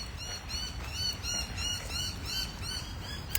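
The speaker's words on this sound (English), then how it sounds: "The birds are pretty loud." Loud birds singing and chirping outdoors in Australia, a dense chorus of repeated calls carrying steadily throughout with no voices.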